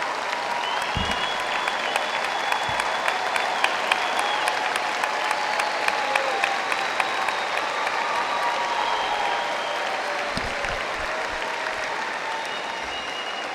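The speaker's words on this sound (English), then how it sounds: "Let's give them a round of applause." A high school graduation crowd applauds parents and guardians, producing a broad, steady roar of clapping that stays loud and even for over ten seconds, with a few scattered thumps underneath.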